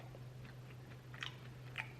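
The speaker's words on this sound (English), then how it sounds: "It's getting better the more you chew it." Someone chews a dry lemon cookie close up, with soft crunching bites standing out over a low steady hum, quiet and without talking.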